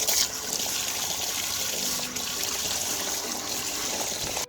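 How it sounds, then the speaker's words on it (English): Water runs steadily from a tap while a cutting board is washed in a home kitchen, a constant close trickle heard on its own. "Need to wash my board so I can prep the veggies."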